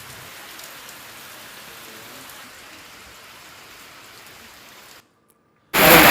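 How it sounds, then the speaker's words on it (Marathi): Heavy rain falls in a steady, dense hiss of drops on surfaces for about five seconds, then cuts out abruptly to near silence before a brief loud burst of noise at the end. "जोरदार पावसानं हजेरी लावली"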